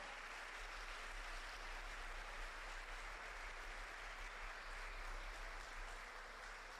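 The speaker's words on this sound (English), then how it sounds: "will you give your staff a big round of applause?" A crowd applauds school staff at a high school softball state championship celebration, a steady wash of clapping held at an even level throughout, somewhat distant and diffuse, with a low hum underneath.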